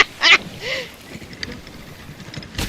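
A voice imitates chicken noises during a Sea of Thieves session, giving a couple of short squawking, clucking bursts with a rising-falling cackle between them, close and fairly loud against a quiet background.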